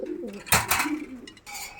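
Pigeons kept in pairs for sale give soft, low, throaty coos close by, with a brief rustle in the middle.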